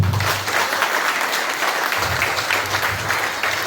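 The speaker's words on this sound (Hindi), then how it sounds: "दोबारा से ताली बजा दीजिए।" A crowd at a public gathering claps steadily, a dense, continuous wash of applause with a low rumbling hum beneath it.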